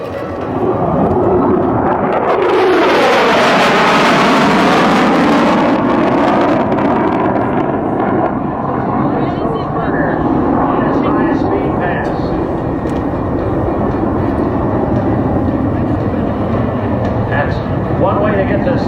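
B-2 Spirit bomber climbing with afterburner at an Edwards AFB air show in 2009, a loud sustained jet roar that swells and then holds steady as it climbs away.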